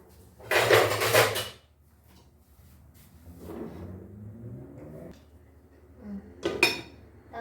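A metal lid is picked up and set onto a cooking pot of kare-kare, giving a loud clattering clank at the start, softer scraping and rattling in the middle, and a second sharp clink near the end.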